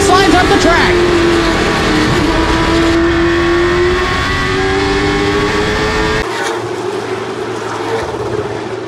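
Stock race cars, including an Oldsmobile Cutlass, roar around Hickory Motor Speedway, engines droning close and loud as one accelerates off a turn. A commentator talks over the racing throughout.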